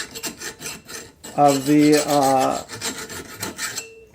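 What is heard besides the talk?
filing a bolt end before threading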